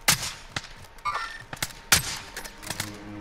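Gunfire in Call of Duty: Modern Warfare, a handful of sharp close shots in an irregular rhythm over a few seconds, with fainter reports and tails between them.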